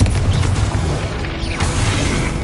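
Hogwarts Legacy's Confringo spell explodes in a loud, dense, roaring blast that fills the whole short stretch with steady, rumbling crackle and no voices.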